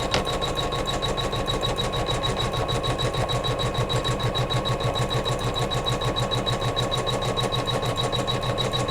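A sewing machine stitches quilting on a Kimberbell Sweet Land of Liberty pillow block through fabric and batting, with a loud, fast, even mechanical chatter running without a break from start to finish.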